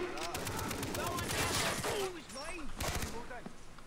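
Rapid automatic AK-47 fire in Far Cry 3, loud and dense bursts running nearly throughout, with a voice talking over the shooting.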